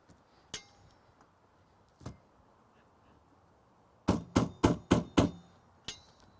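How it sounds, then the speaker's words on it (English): Metallic clinks and taps while bolts are removed from a car's windshield wiper arms at an auto glass shop: a few scattered knocks, then a quick run of six sharp clanks and one last tap, close and fairly faint. "Let's go ahead and remove the bolts."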